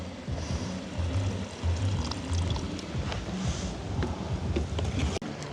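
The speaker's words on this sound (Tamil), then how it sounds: "பழப்புளி கரைச்சி வச்சுருக்கிறோம் அதையும் விட்டுக்கொள்வோம்" Dissolved tamarind water is poured into a pot of brinjal and dried anchovy curry, a soft, close, continuous splashing pour with a brief clink near the end and no speech.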